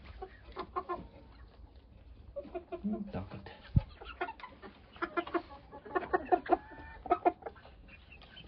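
Roosters cluck repeatedly while being fed on a farm, with scattered bursts of clucking that grow busier toward the end, and someone speaks briefly nearby.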